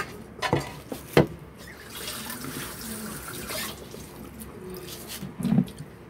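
Water poured into a container for cooking ginataang tambakol and monggo, a soft running splash with a few sharp clinks and knocks nearby, and no talk over it.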